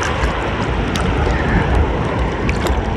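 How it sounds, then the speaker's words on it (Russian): Sea waves crash and wash against the shore in a steady, loud roar of surf and spray, with wind buffeting close by and no voices. "чтобы не сшибло вот такой волной."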